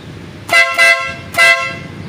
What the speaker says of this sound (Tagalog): testin po natin yung busina